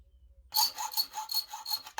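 A metal file rasps back and forth on a part being fitted for a Nibbi 28mm carburetor on a WPB 190cc engine. About six quick rhythmic strokes are heard close up after a short silence.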